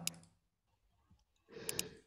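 Computer mouse clicks while working in Excel: a sharp click at the start, then near-silence, then a burst of two quick clicks over a soft rustle, close and fairly quiet.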